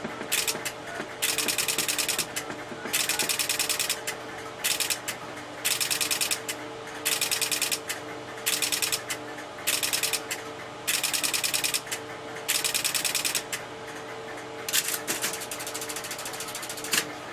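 CAMA trunk telephone switching equipment, part of an Automatic Number Identifier Type D system, clatters in repeated bursts of rapid relay chatter separated by short pauses, with a steady hum underneath.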